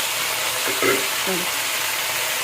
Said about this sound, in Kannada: ನಾಲ್ಕು ಸೈಡ್ ಕೂಡ ಚೆನ್ನಾಗಿ ಇದನ್ನು ಫ್ರೈ ಮಾಡ್ಕೊಳ್ಬೇಕು